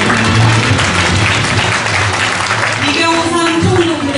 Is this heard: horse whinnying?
no